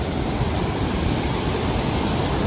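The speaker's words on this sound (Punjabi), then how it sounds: "ਇੱਥੋਂ ਪਾਣੀ ਆਉਂਦਾ ਮੇਰੇ ਥੱਲੇੋਂ" Water rushes beneath the Natural Bridge near Banff, Alberta, a loud, steady roar of churning flow with no pauses and no voices.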